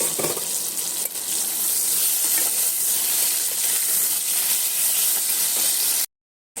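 Potatoes fry in an uncovered pan with a dense, continuous hiss of sizzling oil, loud and close, broken by a brief cut to silence near the end.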